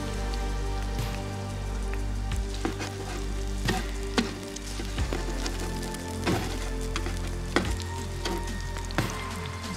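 Brains fry in a pan with a busy, crackling sizzle, full of popping spatters and irregular louder bursts, close up and continuous with no talk.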